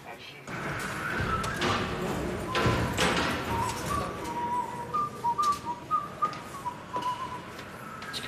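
A person whistles a wavering, tuneful line close by. Speech and thumps sound at the start, and short whistled phrases carry through to the end.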